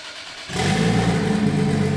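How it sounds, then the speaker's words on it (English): A turbocharged Nissan S15 Silvia engine with no exhaust fitted starts and roars loudly at close range, a harsh, unmuffled rumble that holds steady after a quiet moment. "There's no exhaust, so it's very loud"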